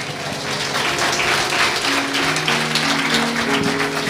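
A church congregation applauds during a service, a steady wash of many hands clapping at moderate loudness for several seconds, with faint voices mixed beneath.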